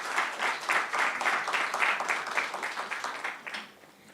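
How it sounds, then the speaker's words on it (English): An audience at an energy-efficiency conference side event applauds the panelists: a full, steady round of clapping in a hall, lasting about four seconds and tapering slightly at the end. "Can we give the speakers a round of applause"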